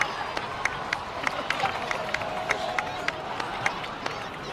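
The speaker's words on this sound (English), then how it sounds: "So, please give another round of applause for them." Applause from an in-game crowd in Genshin Impact, a dense field of scattered claps with a few sharper cheers standing out, steady and moderately loud with some murmuring voices mixed in.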